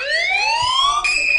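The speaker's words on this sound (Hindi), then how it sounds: "यहाँ पे अगर अलार्म टून पे मैं क्लिक करूं तो यहाँ बहुत सारे अलार्म टून है" A phone anti-theft app plays an alarm tone, a loud electronic siren-like sweep rising steadily in pitch before jumping abruptly to a higher steady note, heard alone and close.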